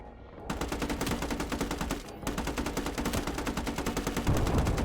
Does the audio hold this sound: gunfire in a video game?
yes